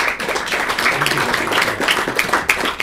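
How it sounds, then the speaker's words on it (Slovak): Applause from an audience at the close of a public debate, a busy, fairly loud clatter of many clapping hands with sharp individual claps standing out, while a voice may sound faintly beneath it. "veľký potlesk."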